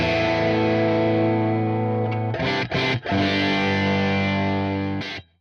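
Electric guitar played through a Marshall Plexi amp emulation in a recording setup, giving sustained distorted chords that ring loud and steady with two brief breaks near the middle and a cutoff at the end.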